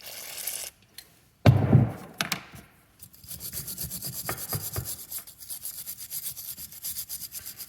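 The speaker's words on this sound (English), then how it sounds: "after I get all this wire brushed out really good" Wire brush scrubbing an ARB air locker part: a few sharp scraping strokes, a brief pause, then a steady run of quick, even rasping back-and-forth close by.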